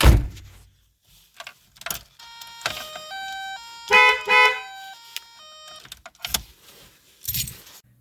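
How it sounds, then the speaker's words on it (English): A VW Mk3 Golf horn sounds in a series of short honks after a steering-wheel install, mixed with clicks, rattles and door noises nearby. No one speaks. "So here's the horn."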